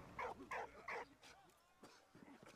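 A puppy in Valiant Hearts whimpering in three short, high yelping cries, followed by fainter scratching and shuffling sounds, fairly quiet overall.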